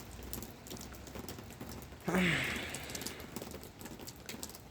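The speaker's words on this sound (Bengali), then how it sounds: "বৃষ্টি হইতেছে" A steady patter of rain falls in hilly country in Italy, and a brief louder whoosh with a faint tonal squeal rises midway before fading.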